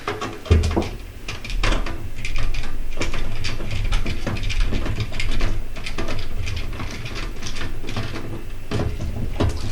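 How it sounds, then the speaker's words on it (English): Self-tapping screws are driven into the plastic body of a computer fan, giving a steady grinding, ratcheting mechanical sound that runs close and continuous with small clicks along the way. "the screws that you put in them tap themselves into the plastic of the fan body."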